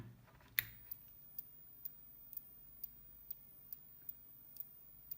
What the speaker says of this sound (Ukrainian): Чути клацання трансформатора.